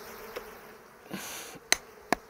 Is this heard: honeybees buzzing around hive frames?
yes